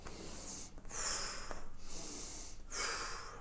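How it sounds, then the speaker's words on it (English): Deep, full breaths during a standing yoga flow, two long slow inhale-exhale cycles, close and breathy with airy hiss, no talking over them. "So 2 more full breaths."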